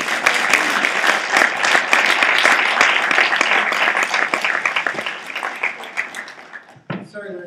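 A theater audience at a college cinema event claps loudly and continuously as a person comes down to the stage, with crowd voices mixed in. The applause thins out near the end.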